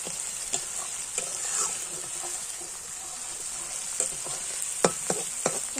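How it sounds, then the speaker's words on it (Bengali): Spice paste for mutton curry stirred and fried in a pan, a steady close sizzle broken by repeated spoon scrapes and clinks that get sharper toward the end, with no voices. "মশলাটা আমি ভালো করে কষিয়ে নেব"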